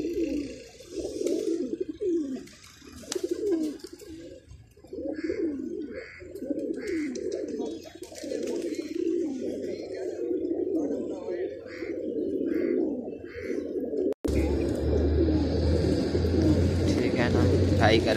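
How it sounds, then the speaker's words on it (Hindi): Domestic flying pigeons kept at home coo repeatedly in soft, throaty rolling phrases, close by and steady, with occasional chirps. The birds continue through the clip, and a person's voice is heard near the end. "बहुत ही प्यारे कबूतर हैं।"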